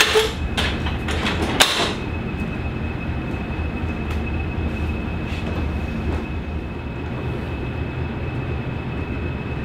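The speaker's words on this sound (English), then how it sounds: "Let the DMU come in, signals." A diesel multiple unit railcar approaches Toddington signal box on the Gloucestershire Warwickshire heritage railway, with a steady low engine rumble, a few sharp metallic clanks at the start and a faint high tone hanging above.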